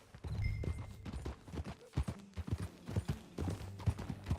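Horse hooves clip-clop in a steady, uneven trotting rhythm in Red Dead Redemption 2, close and moderately loud, with a low rumbling ambience underneath.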